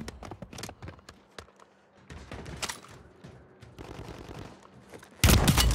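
Rockets and gunfire in a video game battle: dense, overlapping bursts of shots and blasts run throughout, ending in a loud, sustained explosion.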